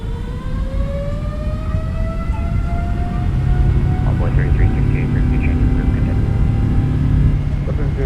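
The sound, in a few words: PMDG 777-300ER engines at takeoff thrust, MSFS2024 video game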